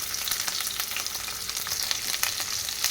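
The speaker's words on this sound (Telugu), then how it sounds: "ఆవాలు ఫ్రై అయిన తర్వాత ఆనియన్ వేసుకోవాలి ఒక మీడియం సైజ్ ఆనియన్ కట్ చేసి వేస్తున్నాను" Mustard seeds and chopped medium onion frying in a pan for a ridge gourd dal, giving a continuous bright crackling sizzle with fine popping, steady and fairly quiet, with no talk.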